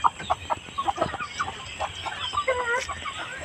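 A hen on a small backyard farm clucks in short, repeated bursts close by, a series of sharp calls with brief pauses between them and no talk.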